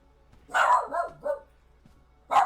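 A dog barks nearby in a short run of about three loud barks, then pauses briefly before another bark begins at the end.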